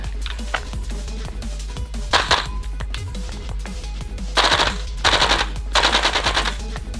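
A Tokyo Marui Colt M4 MWS gas blowback airsoft rifle fires in short bursts, a single shot, then rapid clattering volleys, loud and close between quiet pauses.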